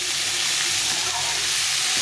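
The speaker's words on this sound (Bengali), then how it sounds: "একদম লাল লাল করে ভেজে নিতে হবে কুমড়োটাকে" Pumpkin and potato pieces frying in hot oil in a pan, a steady, dense sizzle that holds at an even loudness throughout, with no voices.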